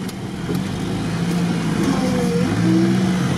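Off-road UAZ vehicle driving off on a river raid on the Desna, a mid-pitched engine rising and revving steadily as it pulls away, close and continuous without talk.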